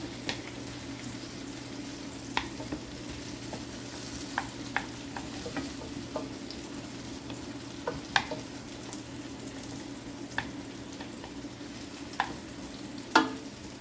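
Vegetables fry in butter in a pan with a steady low sizzle, broken by scattered light clicks and scrapes of stirring, fairly quiet and with no talking.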